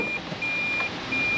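Toyota Prius warning beeps while in reverse, a steady high repeating tone sitting over a constant cabin hum, moderately close and with no talk.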